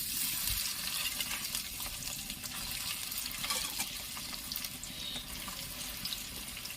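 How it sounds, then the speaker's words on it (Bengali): Soybean chunks fry in hot oil in a pan, producing a dense, steady hiss that runs unbroken throughout at moderate level, with no speech. "এবারে বাকি সয়াবিনগুলো আবার তেল দিয়ে ভেজে নেব"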